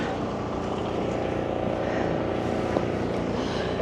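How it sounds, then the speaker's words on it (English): A drone passes overhead at a building demolition site in Blackpool, its steady rotor drone blending into a loud, continuous broadband rumble of machinery and wind with no clear breaks. "Gentleman with drone"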